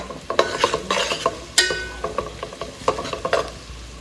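Boiled Maggi noodles and onion fry in a pan, with a spoon repeatedly stirring and scraping in an uneven rhythm over a soft, steady sizzle, all close up.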